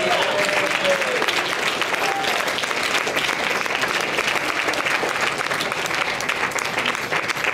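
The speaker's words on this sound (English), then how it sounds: "Someone give Jesus a clap." A congregation applauds at a revival service, sustained dense clapping that holds a steady level for several seconds, with faint voices and crowd murmur beneath it.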